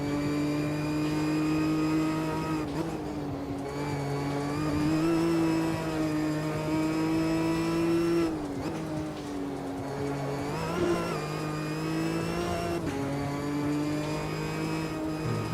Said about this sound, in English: I'm feathering my throttle here to keep the traction on the rear.